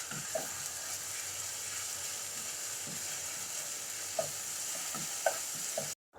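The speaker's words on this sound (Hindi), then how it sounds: "अदरक लहसुन के पेस्ट को 1 मिनट अच्छी तरह से भून लेंगे।" Ginger garlic paste, one teaspoon, frying in hot oil in a home kitchen pan, giving a steady close sizzle with occasional soft stirring clinks and scrapes, no voices.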